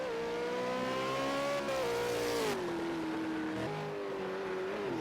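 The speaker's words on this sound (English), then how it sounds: "Bertie is flogging the heck out of this car." A V8 Supercar in a racing video game at Bathurst's Mount Panorama, its engine revving hard at a loud, steady high pitch that rises and falls with gear changes, heard alone and close.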